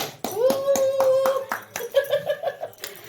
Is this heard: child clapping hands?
yes